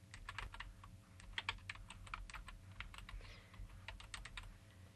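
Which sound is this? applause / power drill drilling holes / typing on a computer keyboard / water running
typing on a computer keyboard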